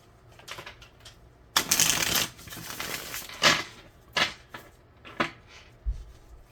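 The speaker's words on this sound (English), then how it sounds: "Capricorn, last shuffle." Tarot cards shuffled by hand in a series of brisk riffles, one long burst followed by several shorter shuffles and taps, close and clear with no talking.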